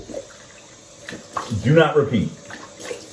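Running tap water rinses a razor and face after a wet shave at a bathroom sink, a short splashing burst of moderate loudness with someone talking before it.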